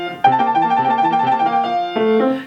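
A piano trill passage is played with the wrong rhythm, so the left-hand notes are cut short, giving a run of clear repeated notes that pause briefly before a final chord, with no talking.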